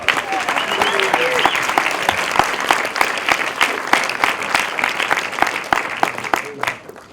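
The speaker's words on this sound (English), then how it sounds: "Let's have a round of applause for our scribes." A room full of audience members claps for the scribes, a lively, dense burst of applause with crisp individual claps standing out, fairly close and steady before fading at the end.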